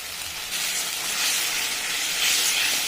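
Water is poured into spice masala frying with tomato, salt and turmeric for a tarka dish, setting off a loud steady hiss of steam that swells partway through and stays close, with no talking.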